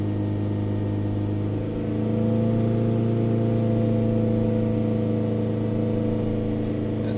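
A Ford Transit minibus engine with a DPF problem held at 3000 RPM, a steady close hum with strong tonal harmonics, its pitch rising slightly at about two seconds and then holding constant.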